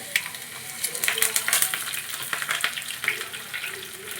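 Ginger-garlic paste and curry leaves hit hot oil in a pan, crackling and spitting in close, lively bursts that rise and fall in an uneven sizzle.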